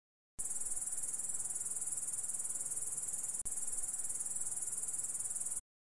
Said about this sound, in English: I am a grasshopper.